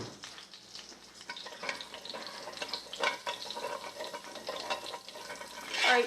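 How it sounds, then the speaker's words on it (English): Pork chops fry in oil in a pan with a soft, steady sizzle and crackle close by. The sound runs quietly and continuously, with a few brief louder spatters and stirring noises. "finish frying up my pork chops"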